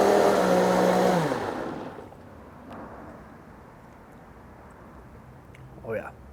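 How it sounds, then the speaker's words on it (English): A blender whirs loudly through a steak marinade of spices and black garlic salt, a close motor whine for about two seconds before spinning down into near quiet, with a brief voice near the end. "Let's blend it up."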